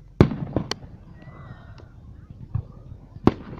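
Fireworks bursting outdoors at a 4th of July celebration, with two sharp, loud booms and a few smaller pops and crackles between them, plus faint background voices.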